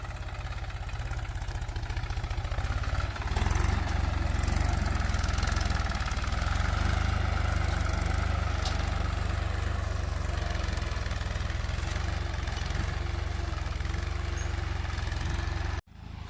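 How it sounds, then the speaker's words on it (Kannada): A mini tractor ploughing between narrow rows of an areca plantation, its engine droning loud and close with a low, steady, rumbling throb and a slight knock that carries unbroken for about sixteen seconds before cutting off abruptly. "ಚಿಕ್ಕ ಚಿಕ್ಕ ಪಟ್ಟೆಗಳಲ್ಲಿ ಉಳುಮೆ ಮಾಡೋಕ್ಕೂ ಕೂಡ ಈ ಟ್ರ್ಯಾಕ್ಟ್ರ್ ಚೆನ್ನಾಗಿರುತ್ತೆ"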